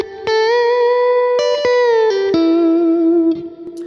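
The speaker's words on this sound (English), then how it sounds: "So I will show you the basic sound is clean amp, two compressors," Clean electric guitar through a Kemper Profiler on a clean amp profile with two compressors and natural reverb, a few sustained picked notes and slides ringing smoothly and loudly, with a soft reverb tail at the end.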